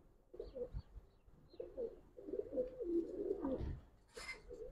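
Old-breed Giribaz flying pigeons cooing close by: a run of soft, throaty, rolling coos in overlapping phrases, fairly quiet and with no talking.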